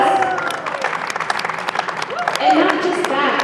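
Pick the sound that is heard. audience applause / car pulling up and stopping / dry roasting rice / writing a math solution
audience applause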